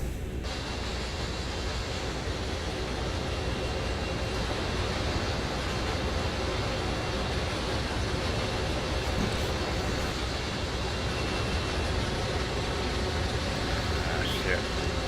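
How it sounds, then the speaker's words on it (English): CSX intermodal freight train rumbling past near Sand Patch, a steady broadband roar and rattle of rail cars holding at a constant loud level for the full length, close by, with no talk over it. "Probably had to wait on this train to get by right here."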